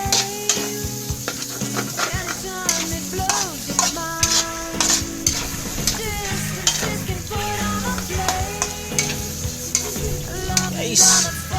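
Milkfish sisig with egg frying and being stirred in a pan, a steady loud sizzle broken by frequent scrapes and clinks of a utensil against the pan.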